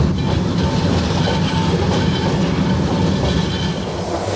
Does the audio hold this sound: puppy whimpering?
no